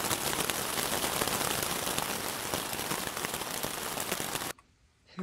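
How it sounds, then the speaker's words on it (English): Steady, dense rain pours down during a rainstorm on the Appalachian Trail near the Shenandoahs, a close, even hiss of drops that fills the air, then cuts off abruptly to near silence just before the end. "We are indeed in the middle of a rainstorm."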